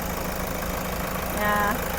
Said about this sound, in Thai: ตอนนี้สตาร์ทเครื่องอยู่นะคะ คุณลูกค้าสามารถฟังเสียงเครื่องยนต์ได้เลยค